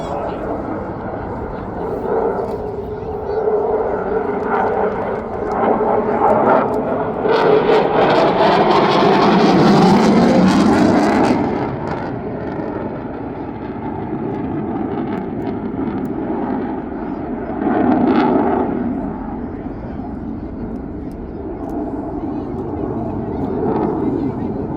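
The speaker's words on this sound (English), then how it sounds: "Manoeuvre now, slowing the jet down" A jet aircraft roars while maneuvering and slowing at an English Riviera airshow, a broad sustained engine rumble that swells near the middle and again later, heard beneath constant commentary.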